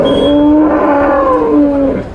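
A buffalo calf at a livestock market lets out a loud, close, sustained moo that lasts about two seconds and then trails off, with no talk over it.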